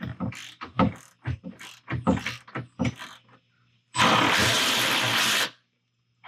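A ratchet works on the back seat bolts of a GMT800 pickup truck: a run of sharp clicks and knocks, then a dense, loud mechanical burst lasting about a second and a half, followed by quiet.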